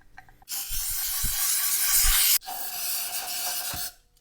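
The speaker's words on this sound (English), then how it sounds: "Just a little spray and we got all that dirt out already." Cleaner sprayed onto Harley-Davidson engine cylinder parts during a top-end rebuild, a loud steady hissing spray lasting about two seconds, a brief pause, then a second long hiss, close by with no talking.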